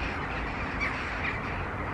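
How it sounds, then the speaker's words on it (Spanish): A flock of birds calling outdoors in Romania, faint caws and squawks over a steady wash of wind and distant background noise, with no voices. "¡Qué de pájaros!"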